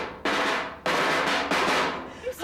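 Trash cans struck like kettle drums, three or four loud booming hits about half a second apart, each ringing on and fading, close and alone.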